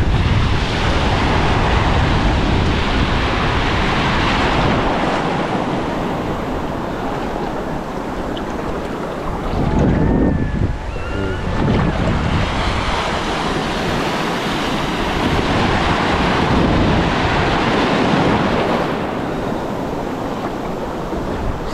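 Strong sea waves rolling onto the shore in blustery wind, a loud continuous roar of surf and wind noise on the microphone, with a brief surge of breaking water near the middle.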